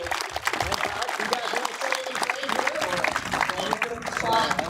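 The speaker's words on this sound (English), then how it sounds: "round of applause for Coach Rodriguez" Crowd applauding for Coach Rodriguez at a sports field grand opening ceremony, scattered clapping and cheers over a few seconds, mixed with nearby voices talking throughout.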